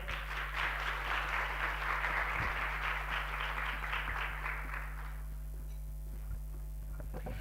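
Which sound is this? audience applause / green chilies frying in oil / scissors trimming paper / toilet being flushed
audience applause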